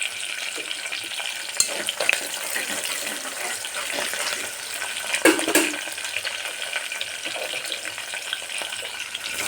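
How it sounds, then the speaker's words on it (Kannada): Onions frying in a pan as the base for pulao, a steady soft sizzle with occasional stirring clicks and scrapes, fairly quiet and close. "ಈರುಳ್ಳಿನ ಹಾಕಿದ್ದೀನಿ ಫಸ್ಟಿಗೆ"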